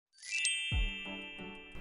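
A single bright notification bell dings close up, its clear metallic tone ringing out and slowly decaying, with a soft low thump partway through.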